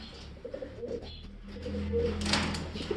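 Pigeons coo in soft low repeated calls at close range, with light background rustle and a brief higher chirp near the end.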